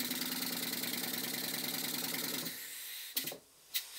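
A Stuart S50 model steam engine runs in a workshop with its timing advanced, giving a fast, even mechanical chuffing that cuts off partway through, followed by a couple of sharp clicks.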